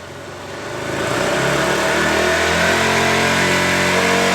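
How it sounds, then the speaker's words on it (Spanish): A KTM Duke motorcycle with a low battery revs up from idle and holds a loud, steady roar close by. "Vamos a acelerar la motocicleta a ver a qué voltaje nos sube nuestra carga."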